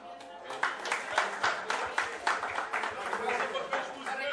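Guests at a christening party clap together in a steady patter of applause, moderately distant, while a voice speaks over the clapping.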